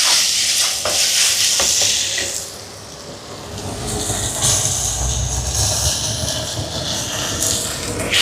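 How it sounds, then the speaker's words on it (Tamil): Tomatoes sautéing in a pan for Chettinad chicken gravy, a broad steady hiss of frying with some rumbling and occasional stirring knocks, fairly loud and continuous with no talk. "தக்காளி பழம் வதங்கட்டும்."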